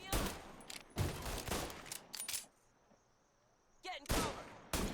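Bursts of automatic gunfire erupt in a Mafia: Definitive Edition shootout, with dense rattling volleys, a brief lull with insect-like ambience, then more shots.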